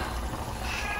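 A cat meows once, briefly and faintly, inside a home in Taytay, Rizal, where chicken adobo is cooking, over a steady low background hum.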